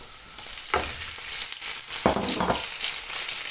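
Beef stir-fried in a pan with cooked garlic and onion, a loud continuous sizzle close up with a few bursts of stirring and scraping.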